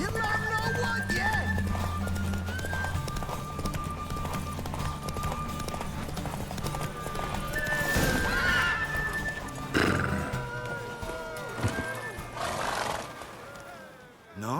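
Horses whinny and hooves clatter in a galloping rhythm in The Witcher 3, with a voice talking over a rising game-style soundscape.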